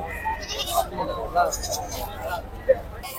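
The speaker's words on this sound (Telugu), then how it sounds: "లోడ్ దించుతున్నారు మీడియం సైజు పొట్టేళ్ళు ఇవి కూడా." Medium-size rams bleating among livestock at a busy Bakrid animal market in Jammalamadugu, several short calls rising over a steady murmur of crowd noise with people talking nearby.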